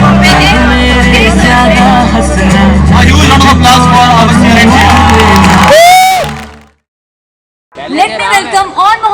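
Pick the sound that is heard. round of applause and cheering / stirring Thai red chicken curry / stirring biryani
round of applause and cheering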